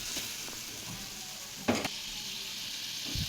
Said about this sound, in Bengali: কড়াইতে দিয়ে দিচ্ছে তেল। দিয়ে দিছে পেঁয়াজ কুচি, তারপর শুটকি, মরিচের গুঁড়া, হলুদ গুঁড়া দিয়ে দিছে। এখন এটা একটু কষিয়ে নেবে।